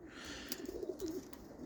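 Roller pigeons cooing softly, a few low throaty coos in quick succession, faint and close, with light rustling in the background.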